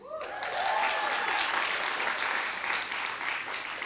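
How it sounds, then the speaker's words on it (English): An audience in a Seattle lecture hall breaks into loud, sustained applause, a dense wash of many hands clapping steadily for nearly four seconds with no talk over it. "Because you just clapped for that"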